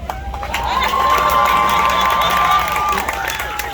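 A crowd screams and cheers at the unveiling of a Dawn Staley statue in Columbia, South Carolina, a loud sustained roar with a whistle-like tone over it and some voices mixed in.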